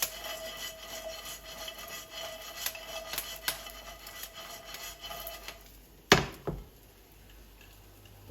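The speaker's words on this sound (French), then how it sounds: "Et on mélange." Croutons and herbs being stirred in a pan, giving a steady scraping, rustling texture with soft ticks, broken by a couple of sharper knocks before the sound thins out.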